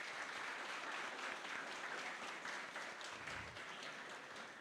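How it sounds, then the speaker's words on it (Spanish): An audience at an institutional anniversary forum applauds a marimba band, a steady, even wash of many hands clapping that holds throughout, fairly distant and quiet. "Vamos a darles un fuerte aplauso"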